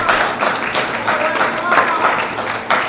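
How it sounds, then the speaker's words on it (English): Audience applause for a regional student minister at a gathering, a short burst of clapping that rises and falls, mixed with voices. "Let's give him a round of applause"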